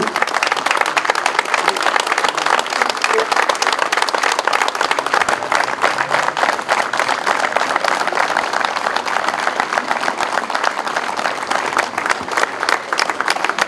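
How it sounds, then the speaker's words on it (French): Crowd at a regional Provençal-style doubles boules tournament in Milhaud gives a sustained minute of applause, loud, dense and unbroken clapping at a constant level throughout. "on a prévu de faire 1 minute d'applaudissement"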